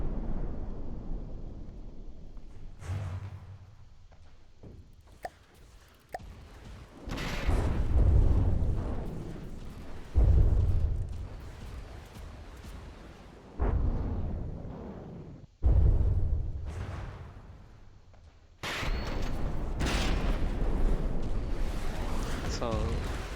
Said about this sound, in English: So that rocket turret is still firing